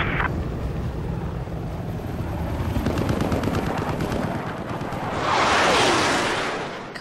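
Helicopter in the video game Battlefield 4, a steady rotor and engine roar under rapid bursts of gunfire, with a louder swell of noise late on as it nears.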